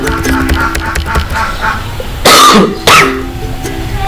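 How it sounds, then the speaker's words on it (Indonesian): Two sharp coughs break through a steady background of music or murmur, the second following about half a second after the first. "Maaf saya batuk."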